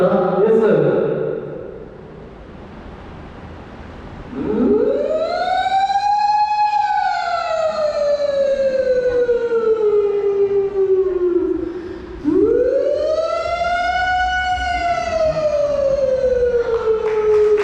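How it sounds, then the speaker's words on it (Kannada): Two long, loud siren wails sound at an outdoor college camp cultural program, each rising sharply and then sliding slowly down before the next cycle begins. "ಈಗ ನೆಕ್ಸ್ಟ್ ಸೈರನ್."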